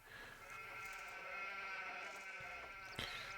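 Sheep in the strategy game Anno 1503 bleat in a long, wavering, sustained cry that ends with a short sharper bleat, quiet overall and with no speech.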